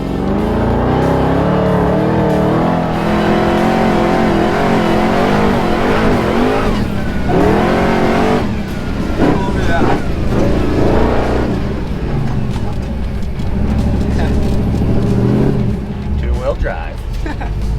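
A two-wheel drive car climbs a soft hill with a loud engine straining and revving throughout, pitch rising and falling as the tires dig in, while people talk over it.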